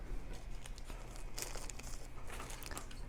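A thick polypropylene plastic bag is nicked with a multi-tool and pulled open, giving close crinkling and tearing rustles in uneven bursts.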